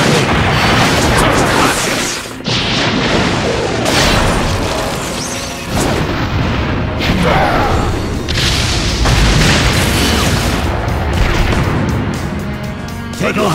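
Fire jutsu explosions in the Naruto Ultimate Ninja Storm Revolution fighting game roar as a dense, continuous barrage of booms and crashing bursts, loud and close, with brief dips between blasts and character shouts under the din.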